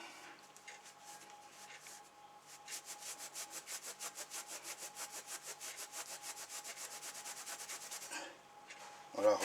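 Rhythmic back-and-forth rubbing on a metal trike fork during polishing, steady strokes at moderate volume that quicken and grow denser midway, ending with a louder knock.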